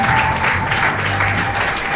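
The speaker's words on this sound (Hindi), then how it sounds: "जोरदार ताली अपने खुदा के लिए बजाएंगे" Loud, sustained applause fills a church service as the congregation claps for God, a dense continuous patter of many hands throughout.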